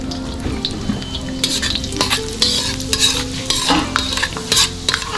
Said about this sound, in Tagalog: maglagay lang tayo ng annatto seed dito sa ating pinainit na mantika